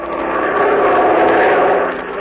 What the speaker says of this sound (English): we were flying our plane over the world's toughest transport route